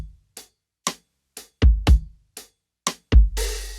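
An indie-track kick drum pattern with no layered 808s beneath it, a string of short, dry, clicky hits with a few fuller low thumps, ending in a noisy wash, loud and alone.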